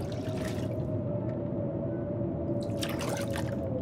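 Water sloshes and drips in a video game as a character drinks, with a steady low hum under brief splashy bursts and no talk.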